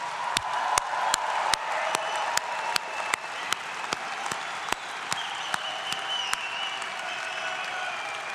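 A convocation audience and graduates break into applause and cheering, a dense wash of clapping with scattered sharp louder claps punctuating it, steady and sustained throughout a large hall.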